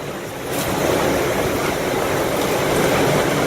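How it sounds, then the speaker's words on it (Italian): A violent cloudburst at Piancastagnaio on Monte Amiata near Siena, with southerly winds driving sheets of rain and water in a loud, continuous roaring wash with no voices. "Guardate la violenza con cui quest'acqua viene portata da sud, questi sono i venti meridionali."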